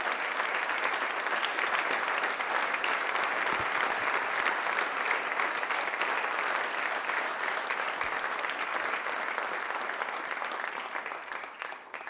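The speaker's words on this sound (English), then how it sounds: "I want to give you all a round of applause because you guys are the best." An audience claps at a Hall of Fame induction ceremony, sustained dense applause from a large crowd at steady volume that eases slightly at the very end.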